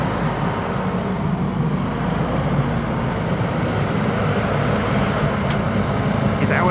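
An Airbus A321neo airliner, Airways Flight 108 from Rome, at Schiphol's Polderbaan runway, a steady broadband engine roar, loud and sustained throughout with no pauses.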